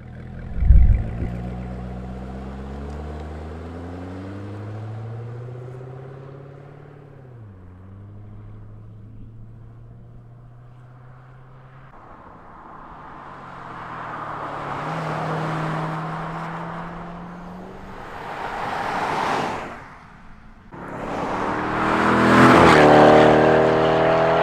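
A C6 Corvette's engine and exhaust, fitted with universal valved mufflers, rumble at idle and then rev repeatedly, climbing in pitch and loudness to a strong, close, growling roar by the end.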